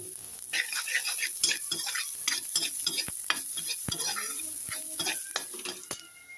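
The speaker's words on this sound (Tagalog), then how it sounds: "And then we add the minced garlic." Minced garlic hits a pan for bamboo shoot lumpia and sizzles softly while a utensil stirs, with rapid clinks and taps against the pan over a low hiss.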